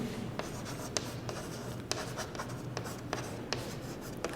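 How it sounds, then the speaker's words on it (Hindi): Chalk or marker strokes on a board during a Class 12 physics lesson on electron orbits, a steady scratchy rubbing with sharp taps at the start of strokes, close and fairly quiet, with no talking. "मैं लिख देता हूं"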